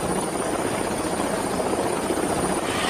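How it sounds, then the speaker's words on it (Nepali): A helicopter flies close by, its engine and rotors making a loud, steady, continuous roar for the whole clip with no voices. "तिनीहरु हेलिकप्टरमा आए।"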